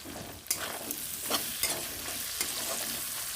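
Shrimp, onion and tomatoes fry in a pan with a steady sizzle, broken by several sharp scraping stirs of a spatula, close and fairly quiet.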